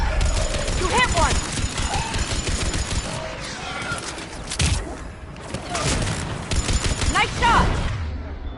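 Dense, sustained gunfire rattles through a Mass Effect 3 combat encounter, with overlapping bursts and impacts filling the scene while voices shout over the fighting.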